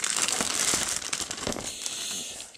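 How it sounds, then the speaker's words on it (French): Crinkling packaging as a boxed ANI CQ CB 40-meter radio is unwrapped, a dense continuous rustle of plastic and paper with sharper crackles, close and fairly loud, no voices. "Le déballage du poste."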